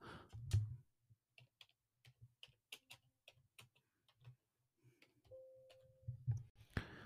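Computer keyboard typed one-handed, a sparse run of separate close key clicks with irregular gaps and a couple of heavier thumps, quiet and alone.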